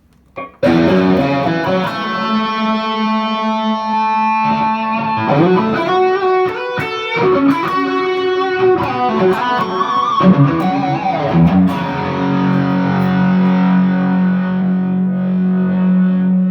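An electric guitar played through a large pedal board with the gain rolled up, giving a thick, distorted tone: sustained chords and riffs ringing loudly and continuously, with sliding notes and a long held chord at the end.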